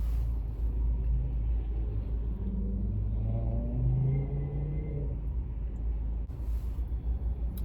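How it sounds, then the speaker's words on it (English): Steady stream of cars on a busy road at teatime rush hour, around 5:30, with a continuous low engine rumble and whoosh of vehicles passing close by, some swelling as they go past fast. "The traffic's busy."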